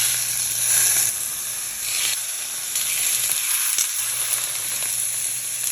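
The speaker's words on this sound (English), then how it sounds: "We're getting it screaming hot, and we're going to pan sear these off." Pork chops searing in a screaming-hot cast iron pan, with steady loud sizzling and bright hiss running continuously, close up and with no talking.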